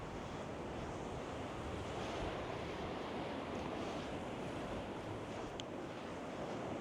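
Ocean waves wash onto a small beach with a steady, broad surf roar and some wind noise, continuous and fairly distant.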